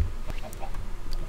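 Chickens in the video game Minecraft, a few short clucks in quick succession, close and moderately loud, with no voices.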